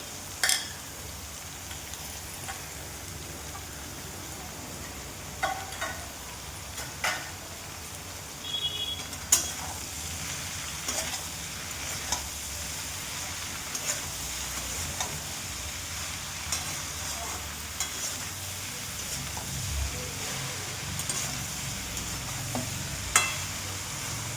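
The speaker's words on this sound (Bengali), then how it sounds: "তো এবারে দিয়ে দেবো আমি লাউটা, কেননা লাউটা দিয়ে অনেকক্ষণ ভালোভাবে কষাবো।" Sliced bottle gourd, cut thin like fries, sautés in a pan for a Bengali dish, giving a steady sizzle and hiss with scattered scraping and clinking from stirring throughout, with no talk.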